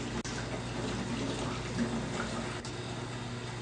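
Lukewarm tap water runs in a steady, close, hissing stream over a screen-printing screen being rinsed out, continuous with a low hum underneath.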